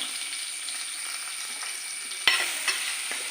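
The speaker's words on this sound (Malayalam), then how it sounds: "എണ്ണ ചൂടായി വന്നിട്ടുണ്ട്. അപ്പോൾ നമുക്ക് വെളുത്തുള്ളി, ഇഞ്ചി, പച്ചമുളക് ഇത്രയും നമുക്ക് ഇട്ട് കൊടുക്കാം." Garlic, ginger and green chili sizzle in hot oil for a fish curry with a steady frying hiss, and a sharp clatter of stirring cuts in midway.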